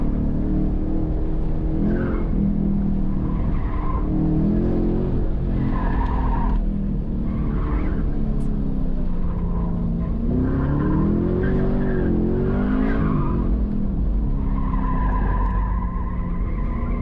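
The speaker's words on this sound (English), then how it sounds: "A lot of wheel spin." A Chevrolet Camaro SS 1LE on an SCCA autocross course in New Jersey spins its wheels, with a loud, continuous engine roar and repeated tire squeals and skids rising and falling over the run.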